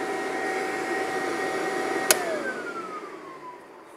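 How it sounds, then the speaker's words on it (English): A PCP air pump hose and small fitting vent their pressure in a steady hiss with two falling whine tones, broken by a sharp click midway before the rush fades off. "That's just letting the pressure out of this hose and this little fitting."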